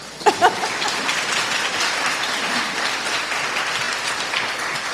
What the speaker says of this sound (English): Let's give you a round of applause first.